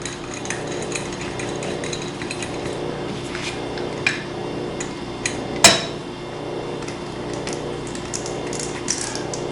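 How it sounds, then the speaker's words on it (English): Two screws are driven in to fix a pitch plate onto a wooden jig, giving quiet, close ratcheting clicks and small metallic taps, with one sharper knock partway through. "put these two screws in to hold the pitch plate securely"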